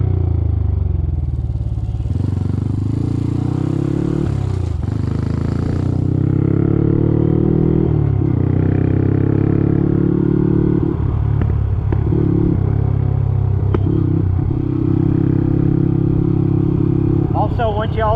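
Honda CT motorcycle ridden along a dirt road, its engine droning and shifting pitch as it rolls, with clattering and thumps from the rough surface and a voice talking over it.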